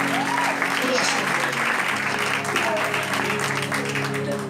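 A church congregation applauding during a French-language sermon, steady sustained clapping from many hands throughout, with voices and a tonal musical hum mixed underneath.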